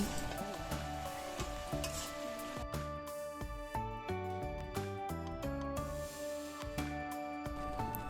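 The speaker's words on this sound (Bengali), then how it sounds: "মাংসটাকে আমরা ততক্ষণ কষতে থাকব যতক্ষণ না জলটা শুকনো হয়।" Desi chicken sautés in a pan until its water cooks off, a faint, steady sizzle with occasional stirring under background music.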